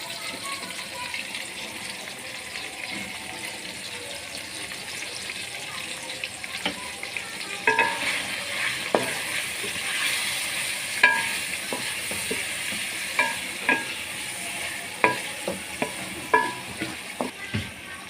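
Mixed vegetables with tomatoes and spices frying in a pan, a steady soft sizzle with scattered clicks and scrapes of stirring that grow more frequent in the second half, with no voice heard.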